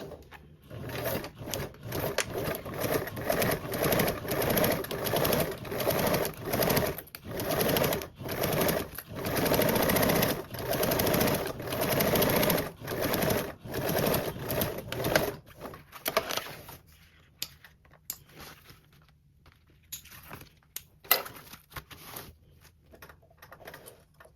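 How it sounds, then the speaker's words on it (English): A sewing machine top stitches a long join seam in a lining at an eighth-inch allowance, a steady close run of rapid stitching pulses for about sixteen seconds before stopping into quiet clicks and handling sounds. "top stitch along that long join seam, which will close up your birthing gap with a 1/8 seam allowance"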